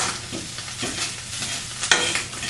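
Egg and tuna fish frying in a pan, a steady close sizzle with scraping stir strokes and a sharper clatter near the end; no voices.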